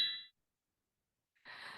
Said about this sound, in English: notification, alarm, and button sounds are specifically designed by a Turkish musician